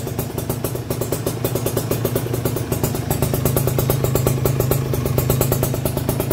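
A Kawasaki Ninja RR two-stroke motorcycle fitted with an RC3 silencer idles steadily up close, a rapid, even, clattering putter with a metallic jingle, holding a constant rhythm with no other sounds.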